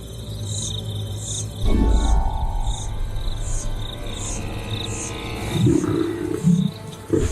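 A deep roar rises out of a night chorus of chirping insects, rumbling a few times before fading back to the steady buzz.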